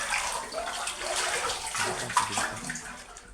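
Water splashes and pours steadily from a bucket during a bath in a Filipino-made video game, a continuous close wash of sloshing and spattering with no voices.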